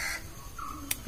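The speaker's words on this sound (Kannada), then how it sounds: "ಕಾಗೆ ಕೂಗ್ತುಂಟು, ಅದು ಕೇಳ್ತಿರ್ಬೋದು ನಿಮಗೆ ವ್ಲಾಗಲ್ಲಿ ಅಲ್ಲ." A crow caws in the open air, one harsh call at the start followed by a fainter, thinner cry and a short sharp tick, moderately close, with no one talking.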